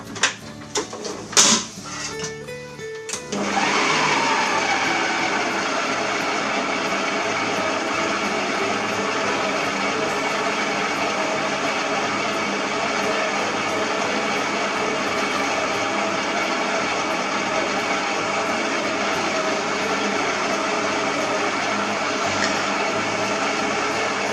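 A few clattering knocks, then an electric stand mixer whirs steadily and loudly, kneading sweet orange-blossom fougasse dough with egg yolks and yeast without pause for the rest of the clip.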